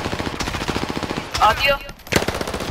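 Machine-gun fire in a Call of Duty: Modern Warfare battle royale match on Caldera, a rapid steady stream of close shots, a brief pause, then another burst, with a voice speaking briefly between them.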